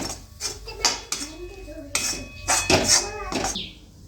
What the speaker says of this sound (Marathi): आता हे बेसन आपण पूर्णपणे लालसर होईपर्यंत भाजून घ्यायचं